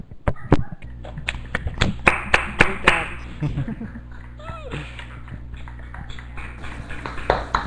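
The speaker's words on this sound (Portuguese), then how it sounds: "eu sugiro então a salva de palmas aí para a apresentação da Cíntia" Applause for a presentation, heard as scattered claps from a few people in a remote meeting, fairly close. The claps come in bursts early and then thin out under faint background noise and chatter.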